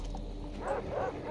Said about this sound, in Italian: è pieno di cani